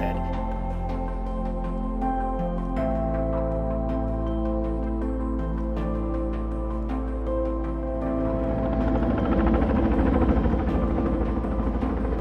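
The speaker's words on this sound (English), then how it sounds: "Today we were using a helicopter to deliver large wood." Helicopter rotor thumping steadily overhead while it delivers large logs of wood to a river in the Sandy River Basin for salmon habitat restoration, loud and continuous, swelling louder near the end.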